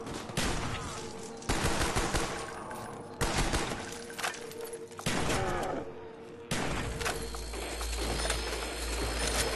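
Rapid rifle gunfire in a zombie video game, repeated loud bursts and cracks in several clusters across the whole stretch, dense and close with busy game noise around them.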